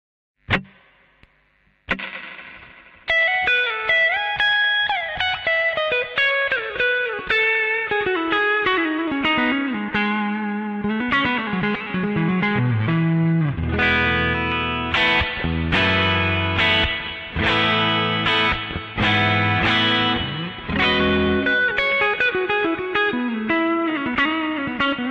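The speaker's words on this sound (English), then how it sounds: "If you had to have one reverb pedal, I'd recommend this one." An electric guitar plays notes and chords through a reverb effect, with long washy tails and occasional distorted strums, heard alone and up close.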